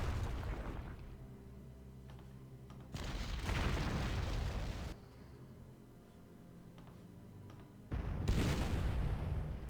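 Artillery fire striking infantry in the Panzer Corps strategy game, with two distinct loud blasts separated by quieter rumbling stretches and low droning hum beneath.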